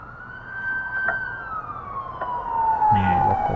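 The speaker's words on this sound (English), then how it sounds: "as I come back out I hear another siren." A police car siren wails, sweeping slowly up and down, loud and fairly close, over rumbling traffic noise.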